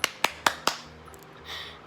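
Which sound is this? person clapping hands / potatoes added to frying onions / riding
person clapping hands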